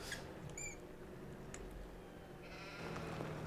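Sheep in the Farming Simulator 17 video game give a few short bleats over a steady farm-ambience hum, faint and fairly distant, with no talking.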